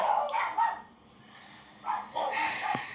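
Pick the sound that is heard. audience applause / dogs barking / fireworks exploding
dogs barking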